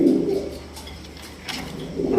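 A male racing pigeon coos nearby in a steady, low, throaty rhythm, repeated for about two seconds with no talk over it.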